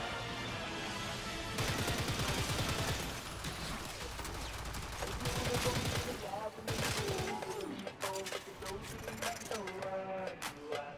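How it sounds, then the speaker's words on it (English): Rapid bursts of gunfire from the video game Warframe come in dense, overlapping volleys that fill the clip, loud and close, with short pauses and scattered sharper shots toward the end. "Who's shooting at me?"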